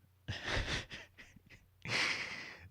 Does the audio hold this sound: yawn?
yes